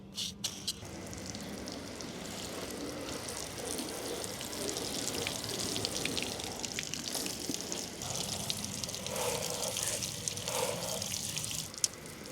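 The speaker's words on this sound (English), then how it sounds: "The only thing we gotta do is rinse off the Cherry Shampoo." Water sprays and splashes as shampoo is rinsed off a Honda Africa Twin DCT motorcycle, a continuous hissing wash of spray with spattering and dripping, steady and fairly quiet throughout.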